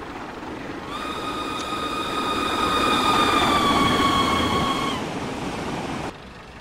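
A first-generation NSE Class 121 diesel multiple unit in Train Simulator 2016 on a South Wales coast line, its engine droning steadily while a rising and falling tonal whine sits above it, loud and close, then cutting back abruptly.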